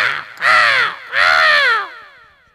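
Crows at an outdoor cricket ground giving two loud, close, harsh caws separated by a short pause, the second call trailing off.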